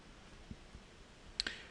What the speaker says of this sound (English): let's press delete on our keyboard and then press enter to delete that key